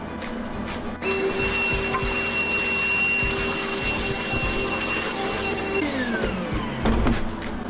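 A shop vacuum sucks up metal flakes from a custom 110cc bike part, a steady loud whine starting after a second of rattling, running continuously, then dropping in pitch as it spins down near the end.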